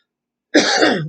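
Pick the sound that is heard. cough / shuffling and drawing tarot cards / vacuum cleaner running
cough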